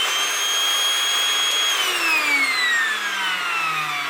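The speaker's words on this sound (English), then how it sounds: "Did a little bit of vacuuming, didn't even put a dent in the 5 amp hour battery." A Milwaukee M18 compact cordless vacuum runs steadily and loudly with no talk, its whine holding a constant pitch before sliding gradually lower as the motor load shifts.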